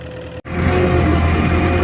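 A tractor engine idles close by in a field with a low, even drone after a brief dropout at the start.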